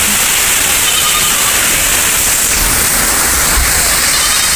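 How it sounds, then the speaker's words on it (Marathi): Heavy rain pours down in Nashik during an outdoor song shoot with wind, a steady dense hiss that stays loud and constant throughout with no voices heard. "नाशिकला चांगला जोरदार पाऊस आहे, तुम्ही बघू शकता."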